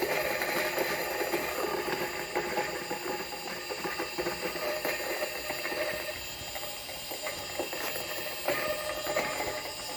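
An electric coffee grinder with adjustable motor speed grinds beans, a faint, steady mechanical whir with small irregular rattles and ticks running throughout, without talk.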